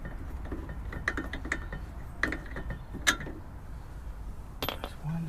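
Bolts on a Brembo brake caliper of a 2004 Jaguar XKR being undone with a ratchet, giving a few sharp metallic clicks and clanks spread over several seconds against a steady low background hum.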